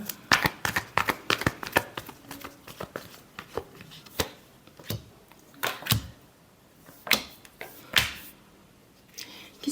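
Tarot cards being shuffled in quick bursts of crisp riffling and slapping, close and fairly loud, with short pauses between shuffles and no talking.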